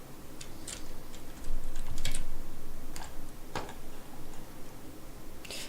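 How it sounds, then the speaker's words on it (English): Computer keyboard typing heard during a stream of a fantasy role-playing game set in the Shivering Isles, with irregular clusters of clicking keystrokes over a low background hum, fairly close and steady, with no talk. "All I hear is the keyboard."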